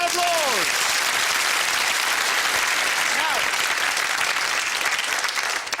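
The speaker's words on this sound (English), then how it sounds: "Give yourselves a round of applause!" Studio audience at a televised game show bursts into a sustained round of applause and cheering, loud and dense throughout, with a host's voice briefly rising over the clapping near the start.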